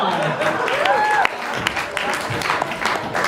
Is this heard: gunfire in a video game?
no